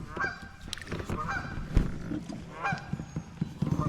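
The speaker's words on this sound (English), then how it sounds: "some geese up here. I think they're happy with me." Geese honk repeatedly by a river in rural Tennessee, loud close calls coming in irregular bursts over a steady outdoor background, with scattered knocks and splashes nearby.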